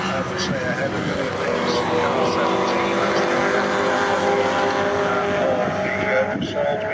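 Pre-1983 Group 1 and pre-1966 classic touring race cars roar past on the Croft circuit, a loud continuous engine drone sustained throughout, with commentary spoken over it.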